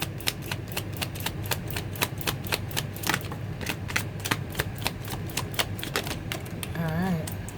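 Tarot cards are shuffled and drawn for a reading, a rapid run of crisp card snaps and flicks ticking along steadily, close and distinct, with a brief vocal sound near the end.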